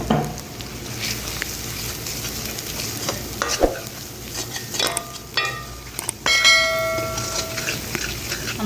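Ground coriander, turmeric, cumin, fennel and whole coriander are stirred into frying garlic in a pan for achari mixed sabzi. A steady sizzle runs under scraping strokes and a few ringing clinks of metal on the pan.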